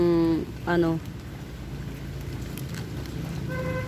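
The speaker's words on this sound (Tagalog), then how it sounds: "Palakas na ng palakas ang ulan eh." Heavy rain on a rainy December 25th, a steady broad hiss running through the whole stretch beneath a person talking at the start and end.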